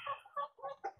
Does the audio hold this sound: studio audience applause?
no